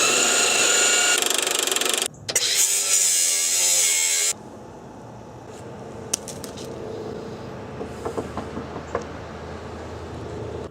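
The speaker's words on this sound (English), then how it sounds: "let's see if my impact will just take it off." Impact wrench working on a bolt on a 1999 Toyota Tacoma outdoors, a loud buzzing burst that stops and restarts, then quieter clanks and taps of tools.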